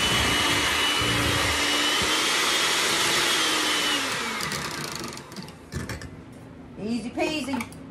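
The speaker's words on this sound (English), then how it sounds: "I'm going to beat this up and get it creamy." A hand mixer beats cherry fluff dessert until creamy, a steady loud motor whir that fades out partway through, followed by a few quieter clinks and brief speech.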